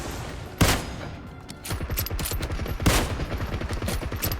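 Gunfire in the PUBG Mobile shooter game: two sharp loud shots followed by rapid bursts of repeated firing, close and punchy, with no talk over it.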